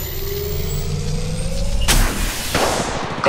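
Gunfire in the mobile battle royale game Apex Legends Mobile: a sharp burst of shots cuts through a steady roar of game noise, with loud, close cracks near the end.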